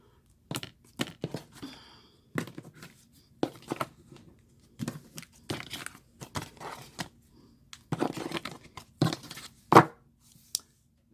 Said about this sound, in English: on camera, like I'm doing right now, live, I shuffle the deck.